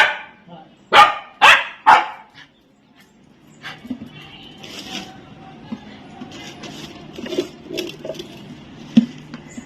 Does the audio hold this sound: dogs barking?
yes